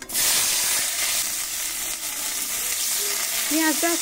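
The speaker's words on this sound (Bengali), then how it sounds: "এবার দিয়ে দিচ্ছি কাঁচা টমেটো আর পেঁয়াজটা" Raw tomato and onion hit hot oil tempered with whole cardamom and dried red chilli, producing a loud, steady sizzle and hiss up close, with faint stirring and a few short tones near the end.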